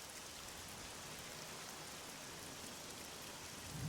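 Steady rain in the video game Oblivion falls as a constant, even hiss of drops, soft and unbroken, rising a little louder at the very end with a faint low rumble.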